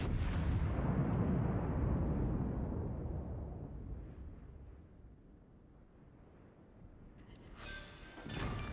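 Heavy naval gun salvo from a North Carolina battleship in World of Warships: a loud deep boom at the start rolling into a long fading rumble, then a sharper crackling burst near the end.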